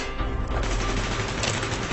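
Gunfire in the video game Call of Duty: Black Ops sounds as a loud, dense burst of rapid shots, with rattling fire and booming reports close by.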